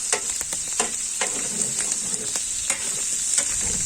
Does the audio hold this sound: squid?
yes